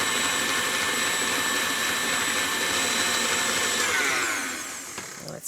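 An electric mixer whirs steadily while blending vegan frosting of butter and powdered sugar for a gluten-free coconut cake, a loud continuous drone that eases off near the end.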